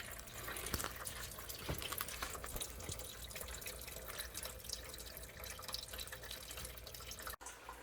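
Coolant drains from a heater hose on an 09 Dodge Grand Caravan, a steady close trickle and patter of liquid running without pause, with no talking.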